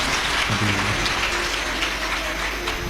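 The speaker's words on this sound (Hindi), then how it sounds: "एक बार जजमान परिवार के लिए जोरदार ताली बजाकर स्वागत करना।" An audience at a live Shiv Mahapuran religious discourse in Sehore applauds to welcome the host family, a dense, continuous patter of clapping with a faint voice underneath.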